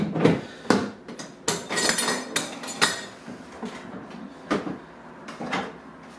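Clattering plastic clicks and knocks as latches snap and the lid of a Husky Connect rolling plastic tool box is lifted, several sharp hits in an irregular sequence, close by.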